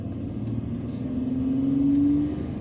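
Car interior rumble while driving through heavy after-school traffic, a steady low engine drone with a rising tonal whine midway, no voices.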